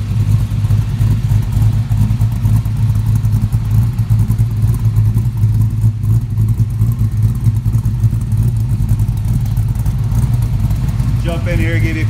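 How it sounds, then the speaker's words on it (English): A 1967 Camaro RS pro touring build idles loud and close with a deep, steady rumble and engine clatter, its note holding firm throughout without clear rev spikes. "Jump in here, give you a couple more revs, and we'll kill it."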